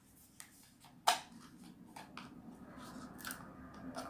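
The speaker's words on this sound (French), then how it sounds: "Alors, papier, je vais enlever le papier." Paper wrapping is peeled and torn off a small lined notebook, giving a few sharp crinkles and rips against a quiet indoor background, with soft rustling between them.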